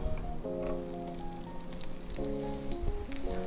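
Garlic and onion sizzling in hot cooking oil in a pan for pancit canton, a steady close crackle and hiss with a faint background hum.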